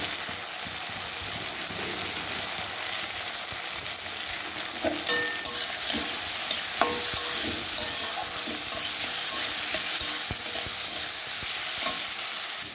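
Chopped onion and tomato fry in a pan over a low gas flame, giving a constant, close sizzle with intermittent scraping and tapping from stirring.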